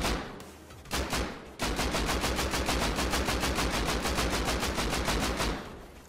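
Rapid automatic rifle fire of 5.56 rounds in the video game Rust, a long steady burst of evenly spaced shots at close range after a couple of brief opening shots, with no talking.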